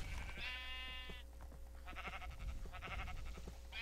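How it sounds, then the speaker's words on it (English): Sheep in a blocky sandbox video game bleat several times in quick succession, close and clear over a steady low background hum, with no talking. "I was trying to kill sheep and get their wool."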